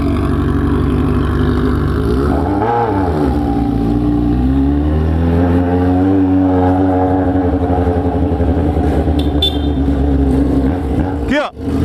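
A loud Yamaha XJ6 motorcycle engine with an aftermarket Atalla 4-into-1 exhaust revs up and down repeatedly, rumbling continuously close by with a throaty tone, with a sharp burst near the end.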